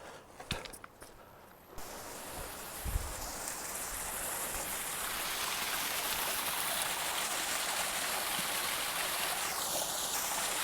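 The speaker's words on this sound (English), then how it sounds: "I can see like 12 waterfalls from right here." Waterfalls and mountain streams in North Cascades National Park, a broad steady rushing roar that swells after a few brief knocks and then holds constant and fairly near, with no talking.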